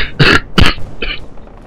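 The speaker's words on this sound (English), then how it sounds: "Fucking cough, man." Several close, loud coughs in quick succession from a player during a Lord of the Rings: War in the North co-op session, two strong hacks followed by a softer one.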